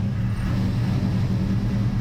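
A 1969 Chevrolet Nova's engine idles steadily, a loud continuous low rumble with a slight lope in its rhythm, close by and with no voices over it.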